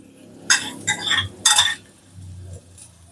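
Raw banana and garlic being stirred and fried in a pan, with three short bursts of scraping and clinking against the pan over a low sizzle, fairly close, then quieter between strokes.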